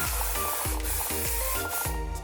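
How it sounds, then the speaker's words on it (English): Hairspray hisses in a steady broadband spray over short hair, running continuously close up with a low tonal hum beneath it. "I am going to take some hairspray and just spray a little bit all over."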